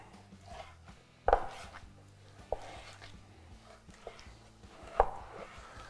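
A knife chops bear meat and pork belly into chunks for bratwurst, giving a few sharp, close cutting thuds spaced irregularly among softer handling noises.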